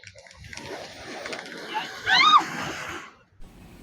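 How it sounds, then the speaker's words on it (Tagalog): Waves splash and slosh nearby inside a sea cave, with a louder surge of splashing midway, echoing slightly over a low rumble of moving water. "medyo may kalakasan na ang alon at malalaki pa"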